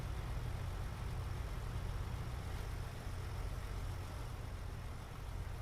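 A truck's engine idles in American Truck Simulator with a quiet, steady low rumble that holds unchanged throughout, with no talking over it.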